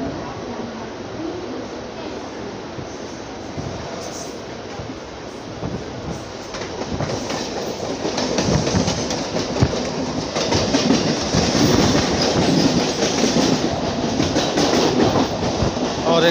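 Two Mumbai local trains run side by side on parallel tracks between Chhatrapati Shivaji Terminus and Kalyan, giving a steady close rumble with rhythmic clickety-clack that swells louder in the second half.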